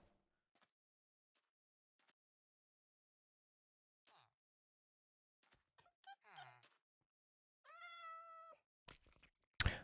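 A Minecraft cat meows in short, sharp, high-pitched calls near the end, preceded by sparse faint clicks and game sounds in a mostly quiet scene.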